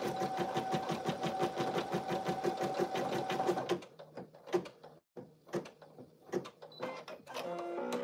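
An embroidery machine stitches pink thread on an in-the-hoop lip balm holder, a fast, steady mechanical chatter for about four seconds, then scattered clicks, thumps and handling noises.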